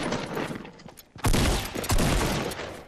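Fortnite gunfire in a dense, loud burst of rapid shots close by, a short gap, then two more heavy volleys overlapping in quick succession.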